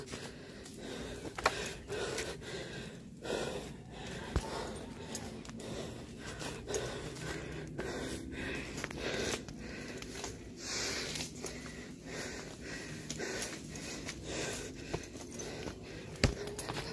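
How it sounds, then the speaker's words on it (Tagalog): A hiker breathes hard and pants on the trail at the Nagpatong Rock formation in Tanay, Rizal, with close, steady, heavy breaths repeating for the whole stretch over faint outdoor background noise. "Grabe hingal ko."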